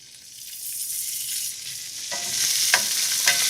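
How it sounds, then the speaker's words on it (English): Crushed garlic and chopped anchovies sizzling in olive oil in a pan, a steady close hiss of frying that grows slightly louder, with a few soft crackles and pops near the end and no voices. "Olive oil, just to begin. Let's get the crushed garlic in. Then the anchovies."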